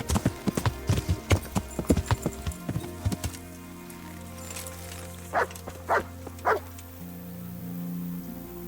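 A dog barks three times in quick succession in the medieval game Kingdom Come: Deliverance, after a steady run of horse hoofbeat clip-clops; the barks stand out clearly and close.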